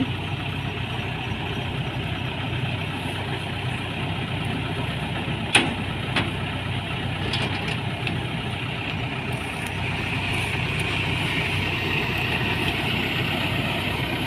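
A rice harvester engine drones on without a break at night, low and continuous, with a couple of brief clicks partway through and no voices.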